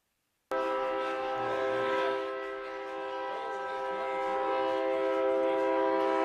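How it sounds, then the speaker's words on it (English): A locomotive's train horn blows long and loud near Jubilee Park in Yorkton, a sustained chord-like blast starting abruptly, dipping slightly, then swelling again as the train passes close by. "as a locomotive thunders its way through Yorkton, adjacent to Jubilee Park"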